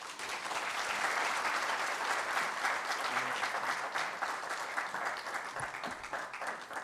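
An audience applauds after a public lecture by Norway's Foreign Minister Espen Barth Eide, sustained even clapping from a large hall crowd that holds steady for several seconds before thinning slightly.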